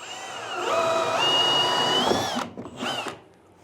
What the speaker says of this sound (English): So I'm going to come in here, just go ahead and drill a hole.